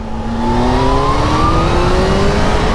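A Kawasaki Z H2 motorcycle engine pulls hard under acceleration, its loud, close drone climbing steadily in pitch throughout without a break.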